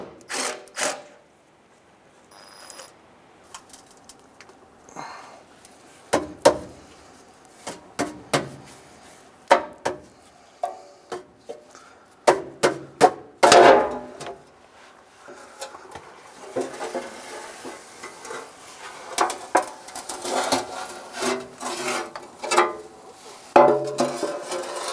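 Oil pan being worked loose from under a 1992-1996 Ford F-150, a series of irregular metallic knocks, scrapes and tool clatter with quiet gaps between, close by in a garage.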